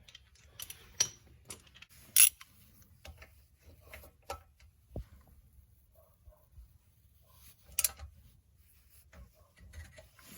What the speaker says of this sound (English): you use a ratchet to widen this opening, which will release the strut and allow you to pull it out